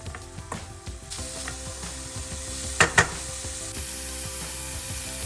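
Chopped onion and five green chillies with salt sautéing in a pan for a spicy Sri Lankan lavariya filling, a steady close sizzle with scraping stir strokes and two sharp clinks near the middle, no talking.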